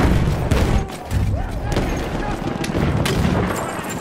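Battlefield 1 combat: a grenade blast and repeated gunfire bursts crack and boom close by in an uneven rhythm, with a soldier shouting in German through the fighting.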